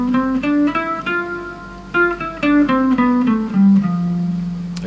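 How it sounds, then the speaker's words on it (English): Guitar notes rising one at a time through the Lydian mode scale starting on F, a clear harmonic tone with steady plucked attacks, close and alone, ending on a held low note. "Let's play Lydian Mode on the guitar."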